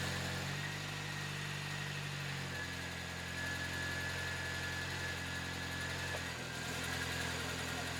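A Honda S2000 with a new Spoon exhaust idles near and steady, a smooth low engine hum with faint vibration, quiet and unchanging throughout.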